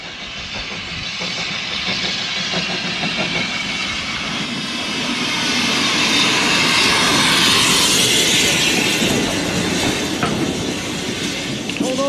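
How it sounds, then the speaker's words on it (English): A small heritage steam train rolls past at Brechin, its hiss and wheel clatter swelling as it draws close midway, then staying loud and steady to the end. "And that's our train."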